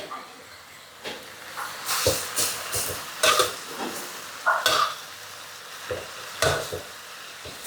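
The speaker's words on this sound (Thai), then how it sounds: "เราต้องผัดไฟแรงๆ นะคะ" Leafy khan chong greens and crispy pork rinds stir-fry over high heat in a wok, with bursts of crackling sizzle and repeated scraping tosses of a spatula, near and fairly loud, while a voice speaks intermittently.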